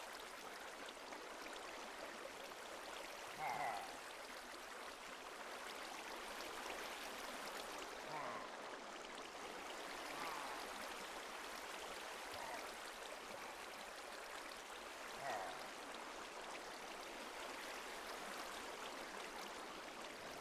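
Steady broadband rush of flowing water in Minecraft, a continuous stream or waterfall texture holding at an even level throughout, with faint blocky game sounds now and then and no talking.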